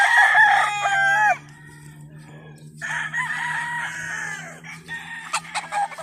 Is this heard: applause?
no